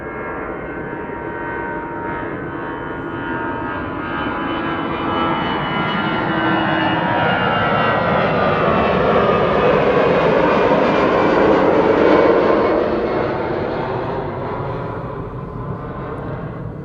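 A jet airliner departing Amsterdam Schiphol Airport roars past, swelling from a steady rumble to a loud peak and then fading, with a shifting whine over the engine noise.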